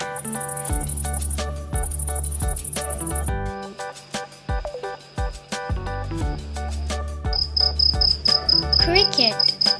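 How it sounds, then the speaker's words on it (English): A grasshopper's rapid, high insect chirring runs beneath loud, steady children's background music, growing more prominent toward the end. "grasshopper."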